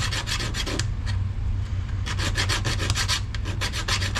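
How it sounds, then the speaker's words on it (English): A part is ground down by hand tool on a caster build, giving a loud, close rasping scrape in quick repeated strokes with a steady low hum underneath, no talk. "So I'm going to grind this down just a wee bit more."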